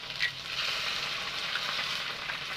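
A cracked duck egg sizzles in a pan of fried onions, giving a continuous crackling hiss at close range with small spits and pops throughout and no voices.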